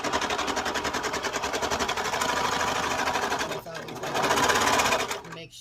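A serger sewing machine stitches through sweatshirt fabric with a fast, loud, steady mechanical chatter, briefly slowing then racing again before stopping; a voice talks over it.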